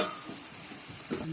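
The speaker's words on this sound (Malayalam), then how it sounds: "കുറേ നേരം ഇളക്കി അതിനൊരു നല്ല ഗോൾഡൻ കളർ ആവണം" Onions fry in a pan for a Palakkad masala curry, a close sizzle with soft scraping as they are stirred.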